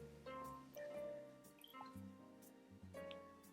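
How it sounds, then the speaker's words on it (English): Water drips and trickles into a glass of Scotch whisky in small splashes, very quiet and close, over a faint tonal background. "so let's add a little bit of water."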